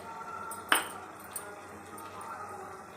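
A metal spoon adds turmeric and chili powder to a mutton curry in a kitchen, giving one sharp clink against the vessel and a fainter tap a moment later over a quiet background.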